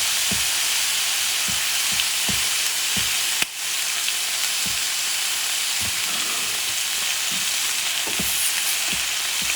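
Honey-glazed sausages sizzle loudly on a cast iron griddle, a constant close frying hiss broken by scattered pops and crackles and one sharp clank partway through.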